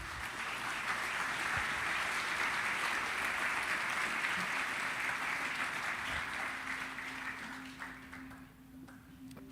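A church congregation at a Sunday service applauds, a steady wash of clapping lasting several seconds at moderate distance before tapering off near the end.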